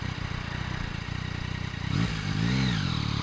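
A 2015 Yamaha FZ/MT-09 with an Akrapovic exhaust rolls on the throttle, its engine note climbing out of steady wind and road rumble into a rising, fairly distant acceleration.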